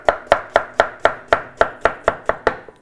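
A knife chops rapidly through potatoes on a board, about a dozen evenly spaced, crisp thuds in quick rhythm, close and alone.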